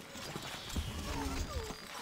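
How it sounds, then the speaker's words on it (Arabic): Horse galloping in the video game Stronghold: Crusader, with quick, soft hoofbeats and a faint whinny over a low ambient game background. "الفرس تعدو."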